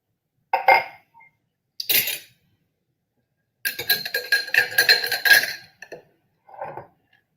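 A cocktail is poured and served over a single large ice rock in a glass, with a few separate clinks and a longer stretch of glassy rattling and pouring, close and clear with no talk.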